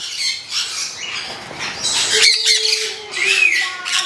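A grey parrot gives several harsh squawks and whistling calls in short bursts, fairly close, with brief pauses between them.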